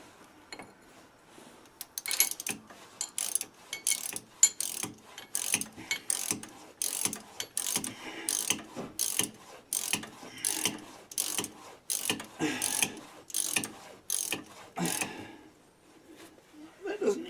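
Ratchet clicking in quick bursts while tightening bolts on a rear wheel bearing hub of a Chevrolet Traverse, close and steady for about thirteen seconds before stopping.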